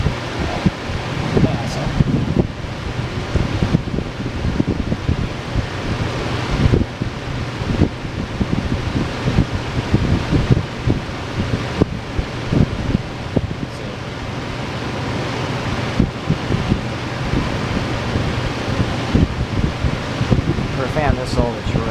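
An old Robbins & Myers 12-inch table fan runs steadily with a broad, constant whooshing roar, mixed with some wind noise, close and loud throughout.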